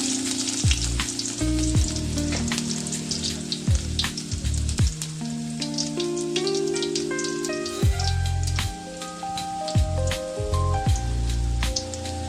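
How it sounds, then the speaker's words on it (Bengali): Nigella seeds and fried garlic dropped into hot oil, a loud close crackling sizzle with dense popping spatter throughout, overlaid by low tonal hum and knocks from the cooking area, no speech. "আমার তেল গরম হয়ে গিয়েছে। এইবারে আমি কি করব, আমি এর মধ্যে দিয়ে দেবো হচ্ছে একটু কালো জিরে, আর দিয়ে দেবো হচ্ছে ভেজে করা রসুন।"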